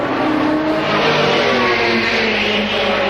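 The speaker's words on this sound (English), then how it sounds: "There is Jaguar number 5 going through." A Jaguar race car at the 1987 Le Mans 24 Hours roars past at full speed, its loud, steady engine note shifting in pitch as it goes by, with no talk.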